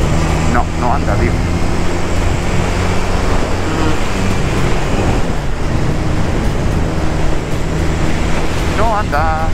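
Honda CB 450 DX motorcycle engine running while riding on a motorway with a carburetion fault so it lacks pull, a loud, steady engine drone mixed with heavy wind rush, and someone talks over it at times.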